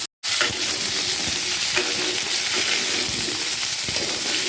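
Mixed vegetables including pointed gourd, potato and pumpkin fry in oil, a loud close continuous sizzle with occasional stirring scrapes after a brief silent start, no speech.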